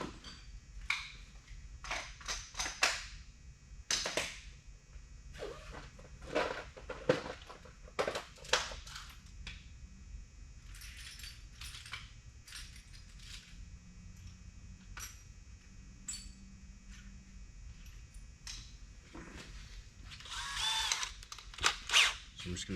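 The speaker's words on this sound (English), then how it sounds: "drill a hole in the top here" A handheld drill bores a hole in a part of a turbocharged E36 sedan during a garage build. It runs in repeated short bursts with pauses between them, close by, with some tool clatter.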